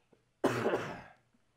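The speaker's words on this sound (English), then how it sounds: "Every time you make me laugh, I'm about to cough my brains out." A single harsh, loud cough bursts out after a quiet moment and fades within about a second, with a faint throat sound before it and no speech.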